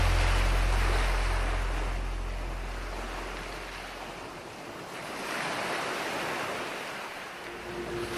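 Surf rolling onto Diani Beach in Kenya, a steady washing roar of breaking waves that swells and recedes, close and continuous with wind buffeting the microphone and no voices.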